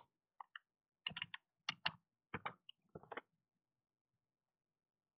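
Bursts of quick keystrokes on a computer keyboard while code is typed, clustered in short runs with brief pauses between them, close and fairly quiet with no talking.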